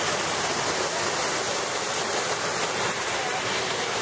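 Waterfalls at Mil Cascadas in Guerrero, Mexico pour in a loud, constant roar of rushing water, a dense unbroken hiss heard up close with no talking.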